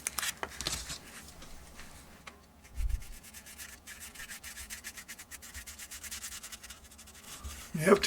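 Soft, steady rubbing and light scratching as weathering powder is worked onto an OO model railway coach in BR blue and grey livery, faint and close, with occasional small knocks and a brief murmur of speech.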